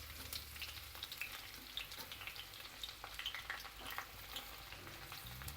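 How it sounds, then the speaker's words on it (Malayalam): Chopped shallots fry in a small pan for a buttermilk curry, giving a soft, steady crackling sizzle with scattered sharp pops and a brief stir near the end. "കൊച്ചുള്ളി അരിഞ്ഞിട്ട് കൊടുത്ത് ഒന്ന് മൂക്കട്ടെ."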